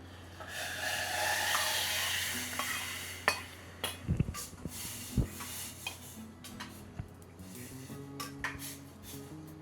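Pineapple sambare in a pan gives a faint bubbling simmer and hiss, then intermittent taps and scrapes of a spoon against the pot, close and quiet.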